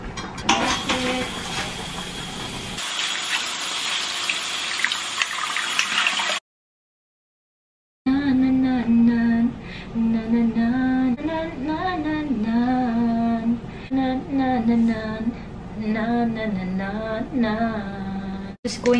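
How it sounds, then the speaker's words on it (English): A kitchen tap gushes as food is rinsed for beef soup, a loud broadband rush for about three seconds that thins and cuts off. After a gap of silence, a bright, tonal, wavering layer carries on to the end. "Going to wash it, guys. Wash it."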